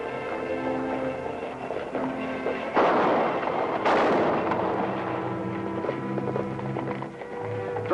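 Rifle gunshots crack out in a Western stagecoach holdup scene, a couple of loud bursts standing out over a busy background of hoofbeats and rumbling movement.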